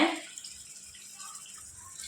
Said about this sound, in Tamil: அதில் ரெண்டு கப் அளவு தண்ணி சேர்த்துக்கோங்க